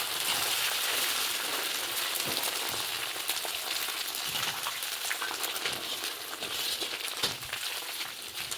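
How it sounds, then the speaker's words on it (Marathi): Fresh curry leaves crisp up in hot oil for chivda, giving a continuous soft hiss with scattered crackles and pops, fairly quiet and close, no speech. "आता परत तेलामध्ये ताजा कढीपत्ता घालून तळून घेत आहेत"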